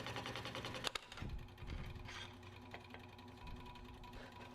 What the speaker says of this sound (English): I just use a pin saw to cut out